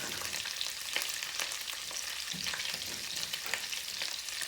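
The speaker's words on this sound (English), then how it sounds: "We're going to add up some onions in this recipe" Onions sizzle and crackle in a hot pan for hot water cornbread, a steady bright frying hiss with scattered pops and a brief stir partway through, close and alone.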